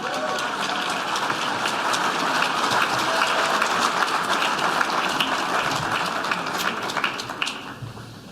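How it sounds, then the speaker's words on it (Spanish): Sustained audience applause at a Chilean TV political seminar welcoming panelist Mara Cedini, a dense, even wash of many hands clapping that holds steady for several seconds and tapers slightly at the end. "Saludamos con un cariñoso aplauso a Mara Cedini"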